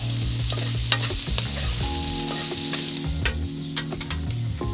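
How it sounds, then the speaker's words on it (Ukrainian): Sliced onion half-rings tipped onto carrots in a frying pan sizzle steadily while a utensil stirs and scrapes with clicks and knocks, close and continuous with no talk. "Висипаємо до моркви і перемішуємо."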